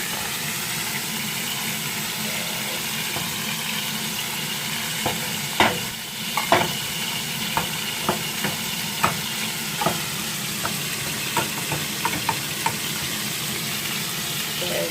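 Burger ingredients frying in oil in a pan, a steady hissing sizzle running throughout with a series of light clicks and scrapes from stirring in the middle, no talk over it.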